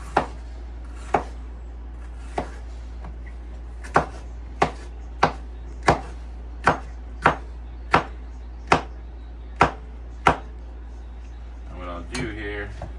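A knife chops food into tiny strips and squares on a cutting board, about thirteen crisp, evenly spaced knocks sounding close and clear, followed by a brief rustle at the end.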